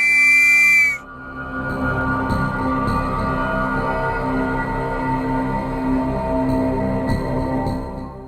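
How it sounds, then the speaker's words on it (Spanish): An alarm whistle in Guadalajara blows loud, high and steady for about a second and stops abruptly, leaving a low droning hum with faint clicks. "el silbato de alerta fue escuchado en todas las casas de Guadalajara"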